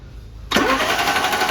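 After a moment of quiet, the starter motor of a Renault Megane 1.6 16v with a jumped timing belt and bent valves suddenly kicks in with a loud, steady mechanical churning close by; the engine does not start.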